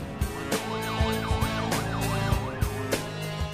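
Ambulance and fire brigade sirens wail in a steady rising-and-falling loop at a hospital fire, with clattering thumps and bangs breaking through the chaotic scene.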